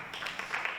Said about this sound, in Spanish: Un aplauso para Rafa.